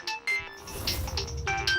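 A short burst of an electronic phone ringtone, bright repeating tones played close and alone, with no one speaking.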